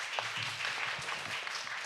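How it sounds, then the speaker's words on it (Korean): An audience at a Korean safety research meeting claps to welcome a presenter. The applause is soft and continuous, a dense patter of hands heard from a distance in the hall. "박수 부탁드리겠습니다."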